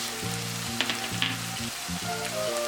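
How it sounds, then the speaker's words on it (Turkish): Minced meat and onions fry and are stirred in a pan for a meat-filled börek filling, a steady close sizzle with a few light scraping stir strokes and a faint tonal hum underneath. "ve kırmızı toz biber ekleyip biraz daha karıştırıyorum"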